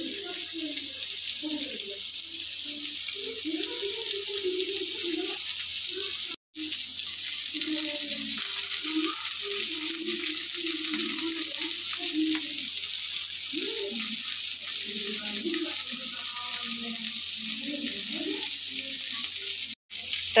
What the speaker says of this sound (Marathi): यात प्रॉन्स फ्राय करून घेते।